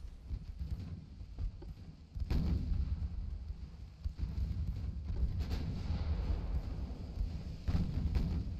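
Naval gunfire in the warship game Ultimate Admiral: Dreadnoughts rumbles faintly as a steady low roar, with distant booming salvos rising every few seconds.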